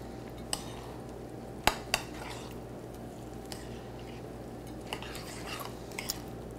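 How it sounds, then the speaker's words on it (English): Salad ingredients are tossed together in a bowl with utensils, making scattered soft clinks, taps and wet scrapes over a steady low background hum, with no talking. "And we're going to mix it all together."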